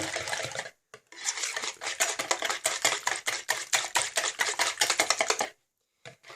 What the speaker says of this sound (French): Donc vous mélangez bien.